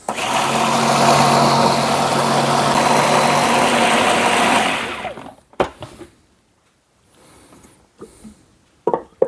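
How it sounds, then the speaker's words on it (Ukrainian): A blender whirs loudly for about five seconds, then shuts off, followed by a few scattered clunks and handling noises. "Тобто блендер накриває, там крутиться той вентиль і він збиває."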